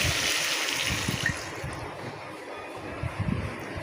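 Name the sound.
water being poured into pan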